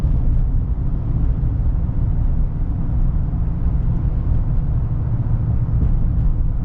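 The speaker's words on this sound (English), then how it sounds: "being so high up in the air, you do get a little bit more wind noise" A steady, loud low roar of wind and road noise fills the cab of a 2024 Chevy Silverado HD High Country with a Duramax diesel as it drives, unchanging throughout with no voices.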